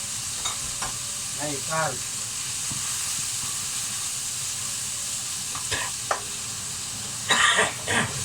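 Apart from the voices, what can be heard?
garlic butter sizzling as it is stirred in a pan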